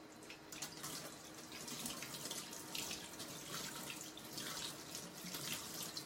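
Tap water runs steadily into a sink to rinse chalk paste off a stencil transfer, a soft continuous splash with uneven surges of spray, heard alone at low level.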